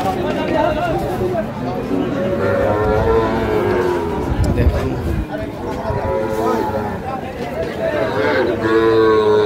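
A young Sahiwal bull calf, four to five months old, moos in long drawn calls at a busy cattle market in Cumilla, close and loud over steady crowd chatter and voices.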